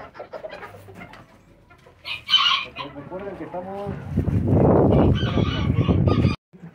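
Chickens cluck and a rooster crows loudly up close, with someone talking in between the bird calls.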